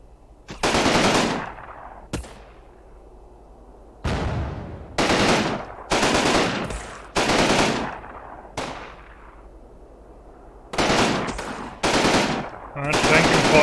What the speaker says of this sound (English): my heavy machine guns are doing a number on them